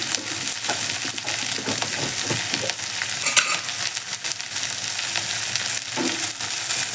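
Ingredients for Andhra-style gongura dal fry and sizzle in a pan with salt added, giving a steady crackling hiss with occasional stirring scrapes, close and moderately loud with no talk.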